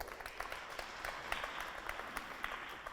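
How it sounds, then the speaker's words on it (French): Audience clapping at a high school competition ceremony, a soft, fairly distant patter of many hands continuing evenly for a few seconds. "Sous vos applaudissements"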